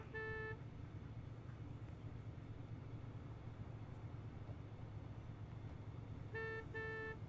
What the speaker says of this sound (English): You don't have to honk, I'm already in the car.